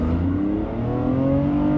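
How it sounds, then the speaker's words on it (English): A Lamborghini Revuelto's engine roars up, a steady close growl climbing smoothly in pitch as it revs. "The engine comes to life and roars up."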